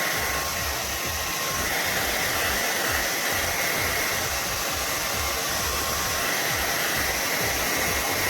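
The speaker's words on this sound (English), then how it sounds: "So you want to stretch it and then hold the dryer away from the hair" A blow dryer blows steadily on hair. The airy whine is constant and close, at a moderate level, and no one speaks.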